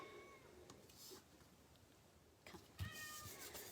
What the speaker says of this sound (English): Oh, now I hear my cat coming.